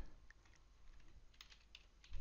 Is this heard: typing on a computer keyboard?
yes